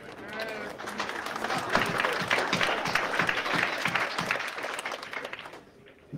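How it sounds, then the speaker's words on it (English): An audience at a billiards match applauds steadily for several seconds, a dense burst of clapping that fades out at the end. "Nice round of applause there."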